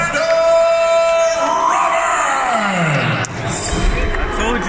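A large arena crowd at a UFC Moscow event reacts unhappily to a unanimous decision, a swelling mass of boos and yells with an announcer's amplified voice ringing over it.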